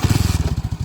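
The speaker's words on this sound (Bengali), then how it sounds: "তো আমাদের কেটিএম স্টার্ট হয়ে গেছে।" A KTM motorcycle engine just fired up, chugging in a fast, even, close-up idle of rapid low thumping pulses, loud and with no talking.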